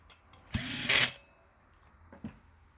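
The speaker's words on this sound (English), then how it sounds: "Once all the screws are in, then we can tighten." A power screwdriver briefly whirs to tighten screws on a thermoelectric module assembly, one loud close burst followed by a few faint clicks and taps.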